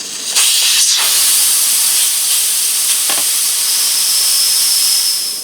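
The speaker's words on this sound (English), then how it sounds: "Now I'm going to release this pressure." A stovetop pressure cooker vents steam in a loud, continuous hiss that runs several seconds close by, with a couple of brief rattling bursts near the start and partway through.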